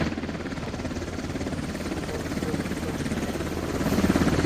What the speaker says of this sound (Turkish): Helikopter açıklığa indi.